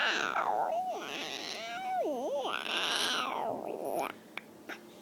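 A young child imitates a cat's meow with drawn-out, wavering, rising and falling vocal cries close to the listener, followed by quieter brief sounds.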